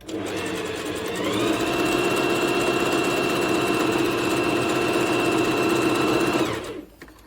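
A Bernette B05 sewing machine stitches a single layer of cotton jersey, running as a steady, even mechanical whir for about six seconds before stopping abruptly, close and alone with no talk.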